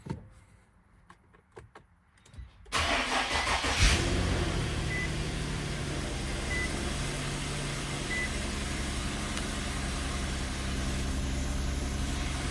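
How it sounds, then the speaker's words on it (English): Cold start of an Infiniti G37X fitted with a VR30 transmission after sitting a month: a few quiet clicks, then the starter cranks and the engine catches into a steady, loud idle that continues. "1 month cold start, but this time it's got a VR30 trans on startup."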